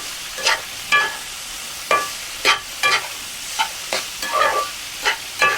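Cauliflower frying and being stirred in a pan, with repeated scraping and sizzling bursts arriving in an uneven rhythm, close up and moderately loud, with no voices.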